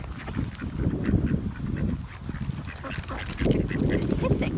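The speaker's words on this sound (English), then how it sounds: "The goose is hissing." Geese and ducks honking and quacking in a noisy flock at close range, with a goose hissing among them, broken calls throughout and a person talking over them.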